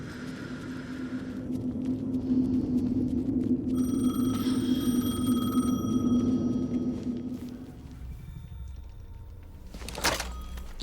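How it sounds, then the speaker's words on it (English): A telephone rings in the video game Alan Wake II, an electronic tone with a low steady hum underneath for several seconds, then fading into quieter ambience with a brief knock near the end. "The phone again."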